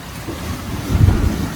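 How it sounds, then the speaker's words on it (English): Wind and sea waves aboard a sailboat bound for Great Inagua in the Bahamas, with a 17-knot wind from the port side: a steady low rumbling gust with a swelling wave surge near the end, close and continuous. "the wind is coming from our port side, from the left, and it's blowing at about 17 knots"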